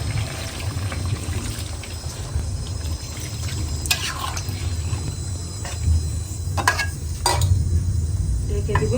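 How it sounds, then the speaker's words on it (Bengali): Water hits a pot of fried-down curry, which sizzles and bubbles while a utensil scrapes and stirs with several sharp clinks, all close by in a home kitchen on a rainy day. "এখন এই যে ঝোলের পানি দিয়ে দেবো।"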